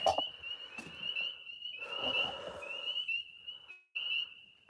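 Frogs calling at a night pond off the grid, a steady high trilling chorus running almost unbroken, with a few broader rustling bursts, a brief dropout near the end, then the calling resumes.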